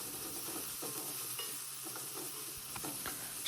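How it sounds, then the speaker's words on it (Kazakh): Onion, carrot and tomato paste sauté frying in a pan, with a soft continuous sizzle and a few faint scraping stirs of a utensil, fairly quiet and close. "Жақсылап араластырып, зажаркамызды дайындаймыз."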